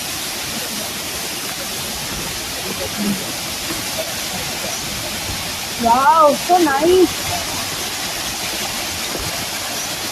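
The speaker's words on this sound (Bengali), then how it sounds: "ঝর্ণা।" A waterfall at Jayanti Mahakal flows as a constant loud rushing wash of water, while a person's brief exclamation rises over it midway.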